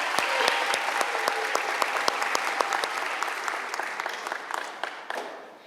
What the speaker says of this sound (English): We'll give him a round of applause even though he's not here.